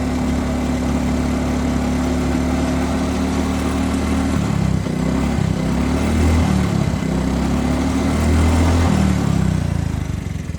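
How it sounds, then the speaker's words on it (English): A Talon GSX 150 R2 motorcycle engine idles steadily while warming up, a loud, continuous close-up putter whose low tone shifts and wavers slightly partway through, with no talk over it. "Once it warms up, it'll idle pretty strong."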